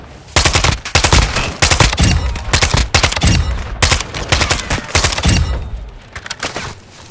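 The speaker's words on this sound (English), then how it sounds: "Taking effective fire!" Rapid bursts of automatic gunfire in the video game Call of Duty Warzone 3 DMZ, loud and close, with dense overlapping shots that sound like machine-gun fire, firing almost without pause before tailing off near the end.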